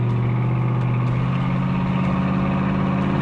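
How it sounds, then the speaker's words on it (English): A Corvette resto-mod with a GM hot cam V8 idles steadily and close, a loud, rough, lopey rumble with no talking. "this thing idles like a vintage L88"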